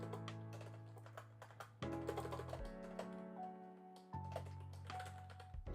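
Fast, uneven typing on a computer keyboard, clicking at close range over a loud sustained musical tone that shifts pitch in steps, with no talking.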